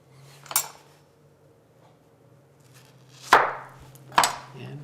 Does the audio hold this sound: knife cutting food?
yes